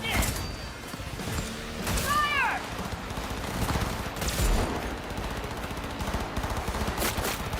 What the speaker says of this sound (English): why are the cops shooting at me?